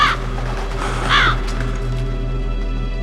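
Ravens caw in the PlayStation game Metal Gear Solid, with a clear harsh call near the middle over a steady low drone and soft wingbeat-like texture.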